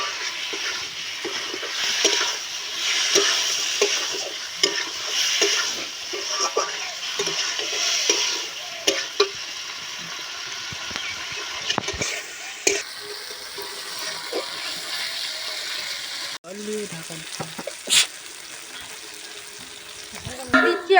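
Poultry chicken intestines stir-fry in a pan with a loud, continuous sizzle. Frequent scraping and clinking stirs run through it, and the frying eases slightly toward the end, with no one talking.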